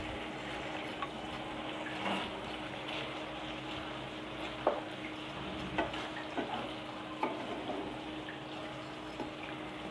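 Ghee stirred into semiya kesari cooking in a pan, a soft continuous sizzle with occasional light clicks and scrapes from the spoon against the pan, fairly quiet with no talking.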